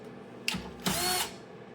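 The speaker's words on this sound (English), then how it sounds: "Alright, now we can start taking all the screws out." A small screwdriver or driver works screws out of a PS5 Pro console during an HDMI port repair, giving two short close whirring bursts over a quiet background.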